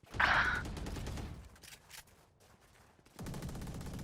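A short, sharp burst of gunfire in the tactical shooter Valorant rings out near the start. Quieter in-game ambience follows, with a little background movement and no speech.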